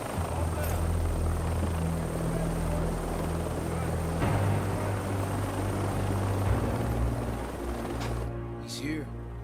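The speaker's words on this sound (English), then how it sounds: "Just getting out of the helicopter." A helicopter drones steadily nearby, its rotor and engine hum loud and continuous, shifting pitch slightly before cutting off near the end.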